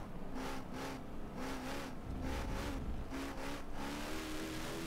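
A race car engine in Forza Motorsport 7 screams at over 200 miles per hour down a straightaway, a loud, high-revving whine that rises and falls in pulses as the car shifts through gears.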